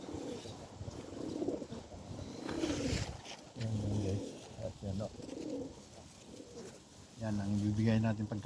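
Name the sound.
pigeons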